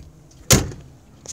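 A 1999 Dodge Ram 1500 pickup's door shuts with a single solid thud, loud and close, followed by a brief lighter knock near the end and no voices.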